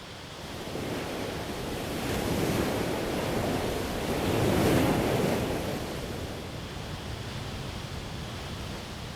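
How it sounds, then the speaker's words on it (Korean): Hukou Waterfall on the Yellow River, the world's largest loess waterfall, where water plunges nine metres, sending up a steady, dense roar that swells slightly midway and then eases, with no voices. "9m 아래로 떨어지는 물줄기는 주변의 모든 소리를 삼켜버릴 정도로 대장관을 이룬다"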